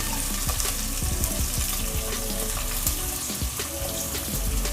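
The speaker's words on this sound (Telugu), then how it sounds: "ఈ ఆనియన్స్ గోల్డెన్ కలర్ వచ్చే వరకు ఫ్రై చేసుకోవాలి" Sliced onions fry in a pan until golden for chicken biryani, giving a dense, loud, continuous sizzle and crackle with frequent popping spatters close up; no talking.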